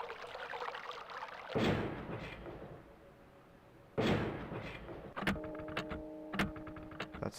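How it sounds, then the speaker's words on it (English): Mechanical clock ticking in the Myst: Masterpiece Edition game world: a few sharp clicks and rattling mechanism sounds, with bursts of whooshing noise and a steady low hum in between, alone with no talk. "That's the clock."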